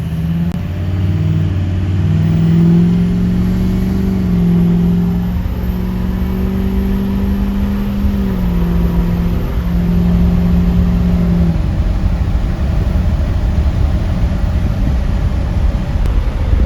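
A Ford 6.0 Powerstroke diesel truck engine with a cracked injector drones steadily up close, its pitch shifting slightly as the revs change, loud and continuous with no voices.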